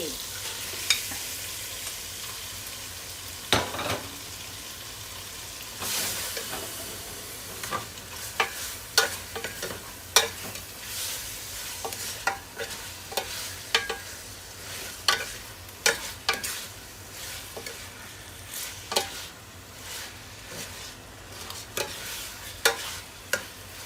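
Beef curry with dried-chili paste and green mustard greens sizzles softly in a pan while a utensil scrapes and stirs it in repeated sharp clicks and scrapes, close up and without talking.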